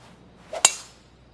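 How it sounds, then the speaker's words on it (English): A single crisp club strike on a tee shot at the 8th hole in PGA TOUR 2K23, a sharp metallic click with a brief swish just before, alone against quiet ambience. "Here's the tee shot at the 8th."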